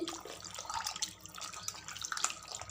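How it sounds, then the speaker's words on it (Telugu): Close splashing and sloshing of water in a bowl as raw chicken is rinsed by hand, uneven bursts of wet movement. "మరొకసారి మంచిగా కడుక్కోవాలి"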